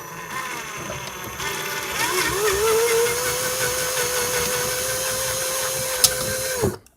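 A power drill fitted with a 7/32 bit whines steadily as it bores a hole in a tablet holder for a DJI Phantom 3 Standard remote, its pitch rising as it spins up, then holding level before cutting off abruptly.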